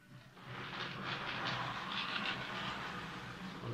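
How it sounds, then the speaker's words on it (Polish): A small electric motor hums and whirs steadily with faint rhythmic clicking, a 3D-printed model EU07 electric locomotive rolling along its track, quiet and close. "Ale jak on się rozbuja, ten silnik się nagrzeje,"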